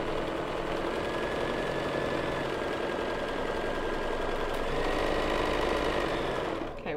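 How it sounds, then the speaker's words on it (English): Sewing machine stitching around three sides of a pocket on a simple tote bag, a steady close, even mechanical whir that runs continuously before stopping near the end. "sew around the 3 sides of the pocket"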